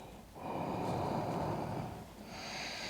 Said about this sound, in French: La respiration fluide et contrôlée.